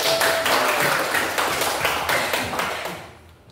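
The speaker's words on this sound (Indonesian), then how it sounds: "beri aplaus dulu dong" A classroom of students clapping together, a dense burst of applause that fades out over a few seconds.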